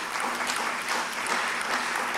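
Congregation applauding together in a church service, a dense, steady wash of many hands clapping at once with no break and no voices on top.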